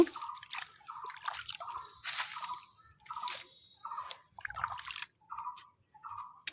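Water is poured onto potted lotus plants in a run of short splashes and trickles, close and fairly quiet, repeating in an uneven rhythm.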